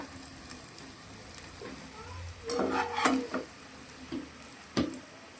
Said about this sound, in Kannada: ಇವಾಗ ಇನ್ನು 1 ನಿಮಿಷ ಫ್ರೈ ಮಾಡ್ಕೊಳ್ಳೋಣ. ಇಷ್ಟಾದರೆ ಸಾಕು, ಹಾಗಲಕಾಯಿ ಫ್ರೈ ಆಗಿದೆ ನೋಡಿ